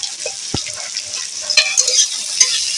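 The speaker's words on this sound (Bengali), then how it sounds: "এটা আমি লাল লাল করে ভাজতে থাকবো" Thinly sliced onions and a few garlic cloves fry in oil in a pan, giving a steady bright sizzle close by, with a few sharp stirring knocks and scrapes along the way.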